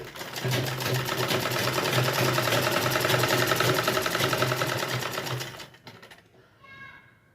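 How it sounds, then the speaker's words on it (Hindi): An electric sewing machine stitches pajama pant fabric with a loud, steady rapid whirring run for about five seconds, then stops, followed by faint handling sounds. "तो इस तरह से हम पहले यहाँ से सिलाई करेंगे।"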